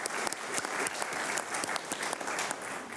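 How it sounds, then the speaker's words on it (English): A room of attendees at a county commissioners' meeting breaks into applause, dense clapping with sharp individual claps standing out, fairly quiet and steady throughout. "I think that deserves like a huge round of applause."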